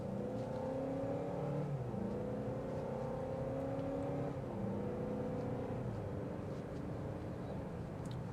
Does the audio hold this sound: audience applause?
no